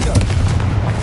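A Confringo fire spell blasts in Hogwarts Legacy, a loud, booming burst with a heavy low rumble filling the whole moment.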